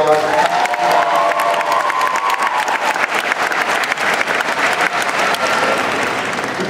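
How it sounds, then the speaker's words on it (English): A large audience at a grade 12 graduation ceremony at St Johns University applauds the graduates with loud, sustained clapping and some cheering that fills the hall throughout. "give our graduates a wonderful round of applause"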